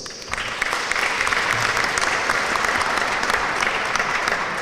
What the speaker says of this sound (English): A big applause to all the students.